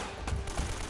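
An AK rifle in Uncharted fires a short burst of a few rapid shots, close and loud, against a dense background of game noise.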